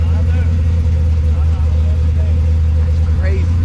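A Ford Mustang Foxbody engine runs at a steady, deep idle with a strong low rumble throughout, while people talk nearby.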